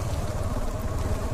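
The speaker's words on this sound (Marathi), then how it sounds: "रेनकोट घालून पाऊस चालू आला परत." Monsoon rain falling during a motorcycle ride near Tamhini Ghat in Maharashtra, a steady dense patter heard close with a low rumble beneath, continuous and without speech.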